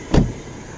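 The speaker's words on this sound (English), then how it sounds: "let me just pop open the hood of the diesel variant" Bonnet release on a Skoda Rapid Ambition diesel car, one brief muffled thunk with a low body, close up against a faint steady background.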